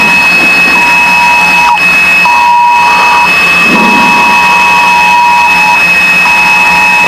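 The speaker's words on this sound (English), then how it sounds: "some kind of an alert on the cell phone" Cell phone alert tone inside a Piper Seneca cockpit, loud steady beeps repeating in long and short pulses over constant engine and cabin drone, with no talk.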